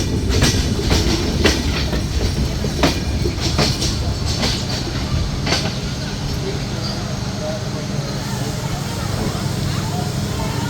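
Padma Express intercity train rolling into Abdulpur Junction station, Bangladesh, with rhythmic clickety-clack of wheels over rail joints and a steady rumble, voices talking faintly in the background.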